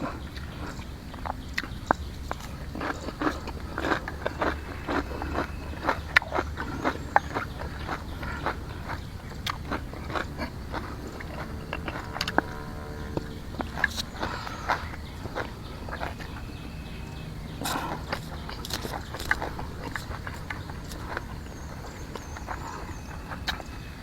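Someone eats fresh lotus stems with rice, giving repeated crisp, close bites and chewing crunches at an uneven pace over a quiet background without talk.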